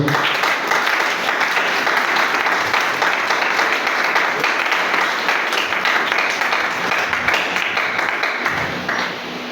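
A church congregation applauds steadily and fairly loudly from start to finish, a sustained wash of many hands clapping together.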